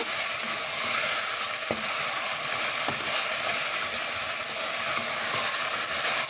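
Tomatoes simmering in a pan with salt and green chillies for bread brinji rice, giving a steady, even frying sizzle throughout with a couple of faint utensil ticks and no talking.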